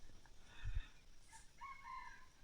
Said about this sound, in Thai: ไก่ขันอยู่ลุม